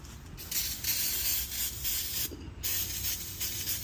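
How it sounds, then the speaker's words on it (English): Close hissing bursts from a spray can, several sprays in a row with brief pauses between them, spraying down a 2008 Ford F-250 during a rear brake line replacement. "Spray everything down."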